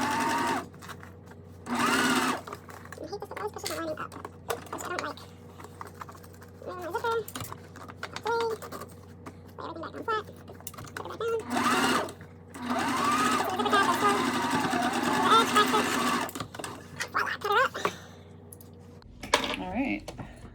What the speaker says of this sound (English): Now we're going to sew this at 1/4 of an inch.